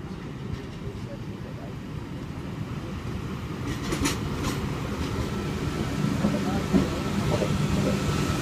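A Sydney Trains Y set test train carrying ATP and DTRS equipment passes platform one at Hornsby, giving a steady, close rumble of rolling wheels and rail noise that swells slightly toward the end, with faint clicks on top.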